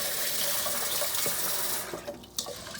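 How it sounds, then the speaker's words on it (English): Tap water runs into a sink while rice is washed, a close, steady rushing stream that eases off near the end with a few brief splashes and clinks. "Okay, 2 cups of rice, and then we're gonna go to the sink."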